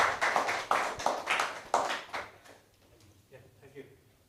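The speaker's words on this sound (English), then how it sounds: "Give applause, ladies and gentlemen." Audience applause at a public lecture on China–Indonesia Belt and Road cooperation: a few seconds of scattered clapping up close that quickly thins and dies away.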